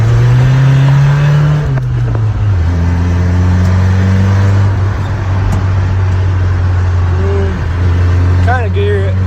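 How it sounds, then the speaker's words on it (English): A 1991 Nissan Hardbody engine runs with a loose timing chain rattling, a loud, steady low engine drone that shifts pitch once as the revs drop, with a faint metallic clatter over it. "I can hear the chain smacking around."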